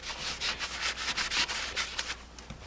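Close rhythmic rasping strokes of hand block sanding along an edge during a motorcycle restoration, about a dozen back-and-forth passes at a steady pace, fairly quiet with no talking.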